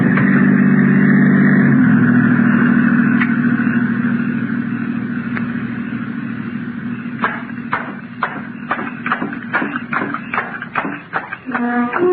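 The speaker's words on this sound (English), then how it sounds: "The car approaching has a spotlight. This is a patrol car." A patrol car fitted with a spotlight approaches at night, its engine a steady low drone that grows and is joined by a series of sharp knocks and rattles toward the end.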